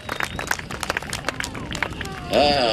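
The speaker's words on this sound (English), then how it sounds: "Let's give him a nice, loud cheer" An airshow crowd at Watsonville cheers and claps for aerobatic pilot Bill Stein and his Edge 540, a busy patter of hand claps and shouts, ending with a louder, sustained tonal burst.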